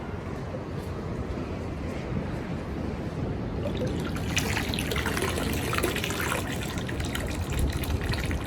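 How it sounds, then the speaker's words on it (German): Water flows out of a hose into a pool in a steady trickling stream, close by and continuous, growing brighter and splashier partway through. "Schauen wir mal kurz an, wie das Wasser rausfließt."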